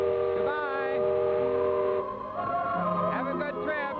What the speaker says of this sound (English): There goes the whistle.